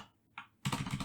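A few quick keystrokes on a computer keyboard while entering a passphrase: one faint isolated tap, then a short, close burst of louder typing clicks.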